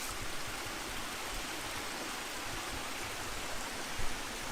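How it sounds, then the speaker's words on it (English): A small creek flows at Erawan Falls in Thailand, giving a steady, even broadband rush of water that stays constant throughout, with no voices. "If you go that way, looks like there's a little creek over there."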